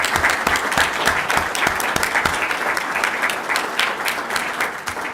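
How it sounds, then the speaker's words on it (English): An audience applauds a pianist after a performance at an evening school board meeting, a steady, fairly loud wash of many hands clapping that holds for about five seconds, with individual sharp claps standing out. "So let's give our pianist another round of applause."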